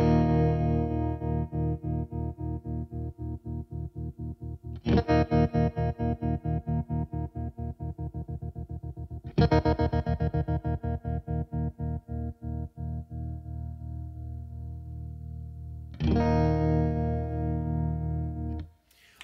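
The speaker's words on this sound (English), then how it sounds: "I like it to sound more like it's just pulsating underneath, rather than it being quite a square edge kind of sound." A Victory V4 Duchess guitar amp plays sustained guitar chords through a pulsating modulation effect, each chord throbbing in rapid rhythmic waves that slowly fade before the next chord is struck, with no talking.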